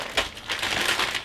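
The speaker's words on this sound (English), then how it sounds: "Close the zip top." A plastic zip-top freezer bag holding sweetcorn is pressed shut, a short, close crinkling rasp with a few soft pulses as the seal is run closed.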